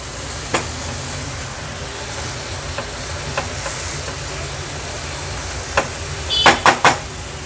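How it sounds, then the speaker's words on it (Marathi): Cauliflower bhurji stirred in a pan over a high flame, with a steady sizzle underneath and a few faint spatula scrapes, ending in a cluster of sharper clinks. "आता हे एकदा मिक्स करून घेते हाय फ्लेमवर।"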